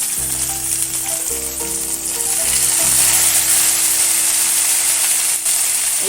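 Eggplant paturi frying in mustard oil in a wok: a steady, bright sizzle throughout with a few soft clinks and scrapes, close up and with no talking.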